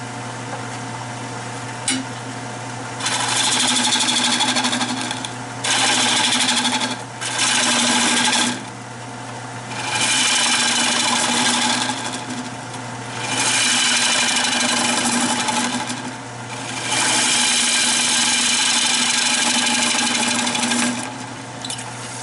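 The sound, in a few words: wood lathe hollowing out red cedar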